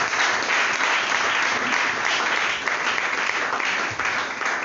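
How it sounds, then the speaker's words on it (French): A congregation at an evening church worship service claps and cheers loudly and continuously, a dense, steady roar of applause with a few voices rising through it. "Acclame très fort le nom du Seigneur"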